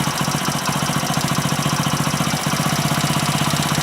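Idling Hero Splendor motorcycle engine heard up close while its air-fuel mixture screw is turned, giving a fast, even, pulsing putter that runs steadily throughout, with no voices.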